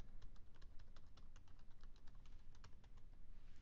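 Rapid, quiet keystrokes on a computer keyboard as a name is typed into a spreadsheet header, forming a steady patter of close, light clicks with no talking.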